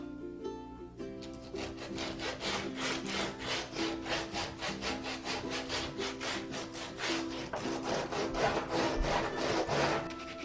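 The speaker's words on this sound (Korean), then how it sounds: "폭풍 사포질" Rapid, rhythmic scraping strokes of sandpaper rubbing against hard plastic, vigorous and close, continuing steadily without pause while music plays underneath.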